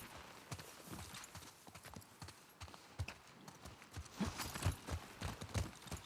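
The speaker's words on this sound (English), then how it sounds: "We on the horses?" Horses' hooves clip-clop along a trail in The Last of Us Part 2, a steady uneven patter of several animals walking, moderately close, with faint ambient rustle.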